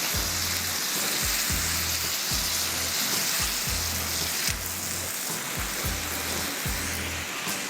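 Naan warming on a hot tawa with butter and oil gives a steady close sizzle, a continuous bright frying hiss with a regular pulsing low thump underneath throughout.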